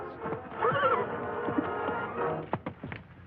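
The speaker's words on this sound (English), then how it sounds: "Here is the war horse Black Cloud, fiery veteran of 100 campaigns," A horse whinnies loudly with a rising, wavering call, followed by snorts and a few hoof clops against steady background noise.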